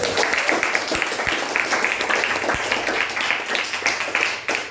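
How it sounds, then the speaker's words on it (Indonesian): A classroom group applauds during an academic coaching session, a dense steady wash of clapping with a few sharper claps standing out throughout. "Tepuk tangan dulu"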